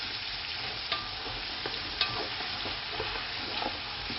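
Onions being stirred and fried in a pan, with a constant close sizzle punctuated by several light clicks and scrapes of a spoon against the metal; no voices present.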